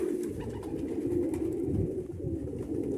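Pigeons in a loft give low, throaty cooing that rolls on continuously up close, several birds overlapping in soft burbling calls with no talk.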